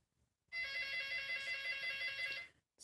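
A phone rings with a steady electronic ringtone at night, bright and continuous for about two seconds, fairly close and alone with no talking over it.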